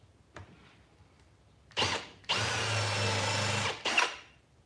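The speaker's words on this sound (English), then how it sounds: "So really, Countersink just means he drills a hole before he puts the screw in." A power drill bores a countersink hole in scrap wood while a stool for under a sink is being built, with a brief tap, then a short whir, a longer steady drilling run and a final short burst, close and loud without talk.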